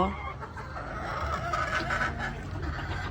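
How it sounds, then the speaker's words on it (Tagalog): Hens cluck and murmur softly in a steady low chorus, with a few sharper calls rising over a background hum. "Yan naman yung mga inahin"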